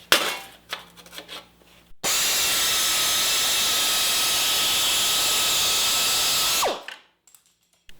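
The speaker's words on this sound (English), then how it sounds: "So I would use that tool anytime I'm doing long, straight, or semi-straight runs on sheet metal." A metal-cutting tool shears through sheet metal, throwing off curly chips: a loud, steady, high-pitched whine holds for about five seconds after a short burst of preliminary noise, then winds down and stops.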